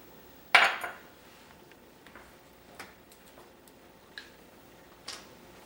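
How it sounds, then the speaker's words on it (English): Metal measuring spoons from a spoon set clink while vanilla is measured into a separate container: one sharp bright clank, then a few lighter scattered ticks and taps, close and isolated in a quiet kitchen. "we will take our measuring spoons from the measuring spoon set"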